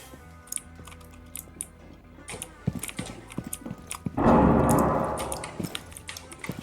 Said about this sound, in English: Your keyboard louder than mine.